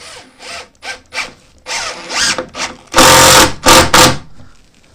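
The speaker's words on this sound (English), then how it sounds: "Rather than just turning it in by hand, it just kind of ratchets it in." A hand ratchet with a socket drives a screw into a 2x4 wood board, giving a series of short rasping clicks in uneven bursts that build to louder, denser ratcheting near the end.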